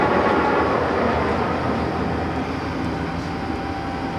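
A Monarch 21x54 heavy-duty toolroom lathe runs with its spindle turning at 200 RPM, giving a loud, dense, continuous mechanical whir and rumble that holds steady throughout, with no speech.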